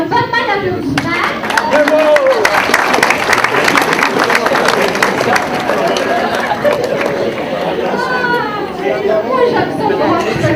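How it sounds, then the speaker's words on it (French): Audience at an annual brunch in Plessisville gives a round of applause, steady mixed clapping blended with loud crowd chatter and voices throughout, fairly close and continuous. "Une bonne main d'applaudissement."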